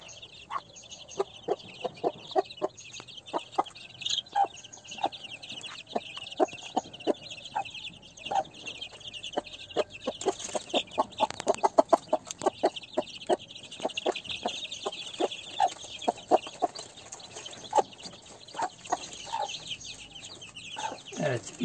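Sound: hen clucking with her chicks

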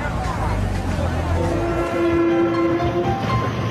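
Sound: train passing on the Beijing–Shenyang railway, horn sounding

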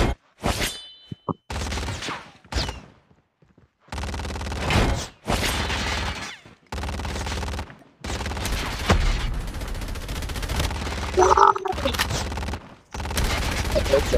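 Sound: sentry guns firing in a video game

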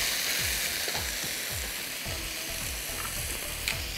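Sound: beef strips searing in oil on high heat

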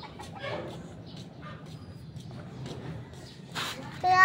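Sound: chicken clucking

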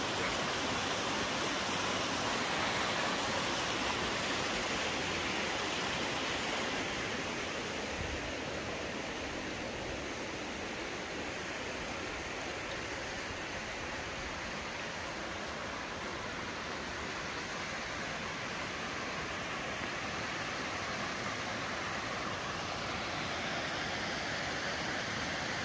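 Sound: waterfall at a schist house property in central Portugal

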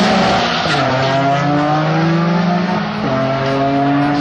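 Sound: Toyota Corolla race car launching off the line

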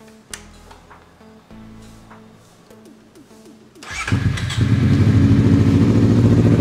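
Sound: motorcycle exhaust sound

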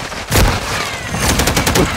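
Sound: turret gunfire in video game Call of Duty MW3

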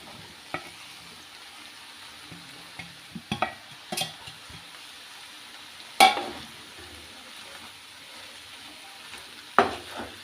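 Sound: stirring cabbage and potatoes frying in a pan

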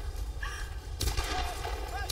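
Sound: gunfire in the video game Tomb Raider 2013

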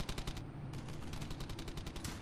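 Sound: suppressing gunfire in video game Brothers in Arms: Hell's Highway

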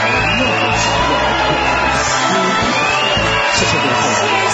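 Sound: audience applause and cheering for magician Liu Qian

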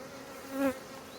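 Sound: honey bees buzzing on hive frame

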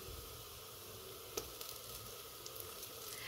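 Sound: ginger garlic paste sizzling in a clay pot

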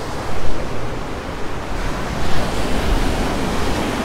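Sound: storm waves crashing into a rock grotto at Fiolent

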